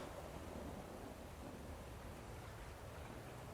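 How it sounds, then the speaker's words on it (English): Heavy rain pours steadily in a tabletop horror game's ambience, with a low rumble of thunder underneath, quiet and even throughout with no voices. "Step out into the rain. Rain comes pouring down on you."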